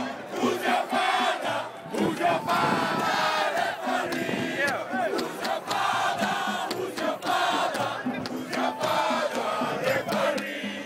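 Large rugby crowd at the USA Sevens tournament in Las Vegas, a continuous loud roar of many voices in a stadium, sustained and dense throughout with shouting mixed in.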